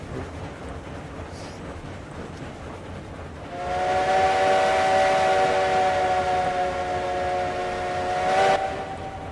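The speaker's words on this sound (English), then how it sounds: "that's the whistle that seems like it's fitting for this train. Yeah. Is the Heisler whistle." A Heisler locomotive steam whistle in the video game RailRoads Online blows one long, steady, chord-like tone lasting about five seconds over low rumbling train noise, then cuts off sharply.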